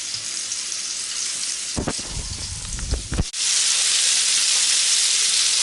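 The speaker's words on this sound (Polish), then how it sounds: "Takie żądają klopsiki, które smażymy z jednej i z drugiej strony." Meatballs fry in a pan with a steady hiss, interrupted midway by a brief clatter of handling, then a louder, continuous sizzle resumes.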